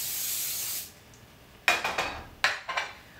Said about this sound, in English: I'm gonna use a really great coconut oil spray so that way it's easier